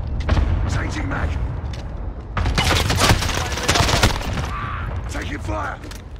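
Call of Duty Modern Warfare multiplayer combat: bursts of automatic gunfire and mechanical clatter, heaviest in the middle, mixed with in-game radio voices talking throughout.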